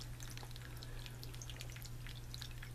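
Water trickles and drips steadily over a hand-sculpted tabletop rock fountain built not to splash, giving soft, continuous patters over a low, constant hum.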